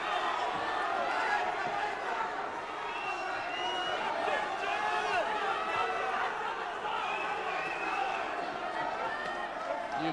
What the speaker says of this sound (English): The crowd enraptured by this.